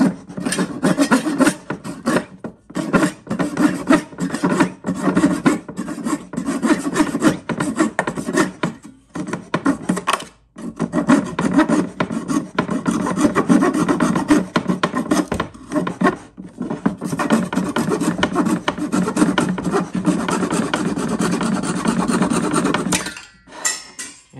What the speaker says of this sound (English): this is my little Japanese saw, and it's hardwood and softwood. So we're gonna take off this spline since it's oversized.